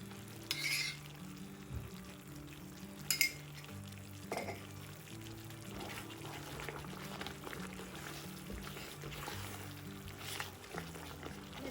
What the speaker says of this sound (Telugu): ఇప్పుడు మనకి నెయ్యి అనేది సపరేట్ అయ్యి ప్యాన్కి ఏమీ అతుక్కోకుండా ఉన్న వరకు కూడా దీన్ని చిక్కబడినివ్వాలి ఇట్లా తిప్పుకుంటూ